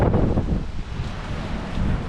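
Strong wind buffets the microphone in loud, low, uneven gusts that rumble steadily throughout.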